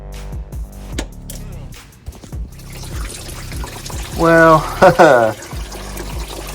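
Engine coolant pouring and splashing onto a surface in an uneven stream as it drains from a 2000 Ford F-350, with someone speaking briefly over it.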